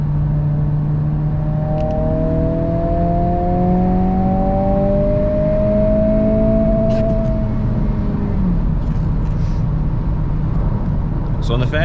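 A tuned 2022 Honda Civic Si with a TSP Stage 1 tune pulls hard in third gear, a steady rising engine drone with turbo whine heard from inside the cabin, a voice briefly speaking over it.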